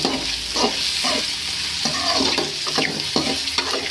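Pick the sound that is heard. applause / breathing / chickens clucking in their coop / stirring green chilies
stirring green chilies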